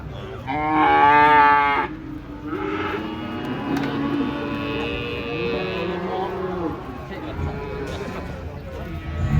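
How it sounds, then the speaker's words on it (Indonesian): Cattle moo loudly and repeatedly at a livestock market in Karanggede, Indonesia: long drawn-out lowing calls from several animals close by, with murmuring voices and market noise underneath. "Sapinya di sini galak-galak ini."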